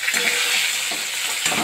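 Pieces of rohu fish frying in hot oil in a pan, a dense continuous sizzle with faint scraping of a spatula, close and steady with no talk.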